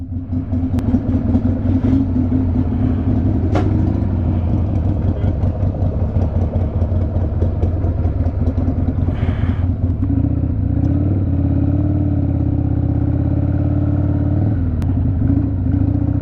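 A 1989 Harley-Davidson Sportster, a stock thirty-year-old motorcycle, runs with a loud, close, lumpy V-twin throb that changes pitch as it accelerates and shifts through gears, with speech audible over the engine.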